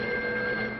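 An old telephone bell rings in a steady, unbroken tone in a 1949 radio comedy, with no voices over it.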